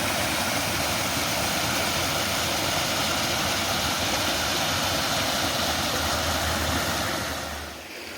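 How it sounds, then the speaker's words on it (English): Small waterfall on a brook in the woods, a steady broadband rush of falling water heard up close and alone, fading slightly at the very end. "There's a nice little waterfall right down there."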